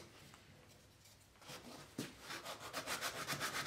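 Rhythmic back-and-forth scraping of wood against sandpaper taped to a scrap of plywood begins after a quiet moment, close and steady, with evenly spaced strokes.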